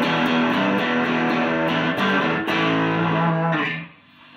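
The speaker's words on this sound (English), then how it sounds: "This is a Joyo Boogie Master." Electric guitar played through a Joyo Boogie Master distortion pedal, a hot, saturated sustained chord texture with a few re-struck strums, loud and continuous, fading out near the end.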